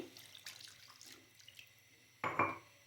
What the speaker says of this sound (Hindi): इसमें हम डालेंगे 1 कप पानी